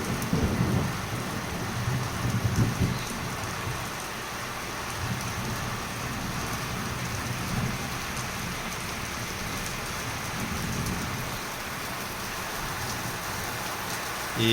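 Steady rain pours in Medjugorje as low thunder rumbles through the downpour. The wash of rain stays even and fills the scene, with no voices.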